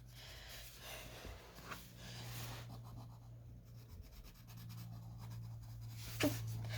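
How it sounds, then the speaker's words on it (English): Coloring in by hand on smooth cold press watercolor paper makes a faint, close scratching and rubbing, with soft breaths and no talk. "And I'm just coloring this in."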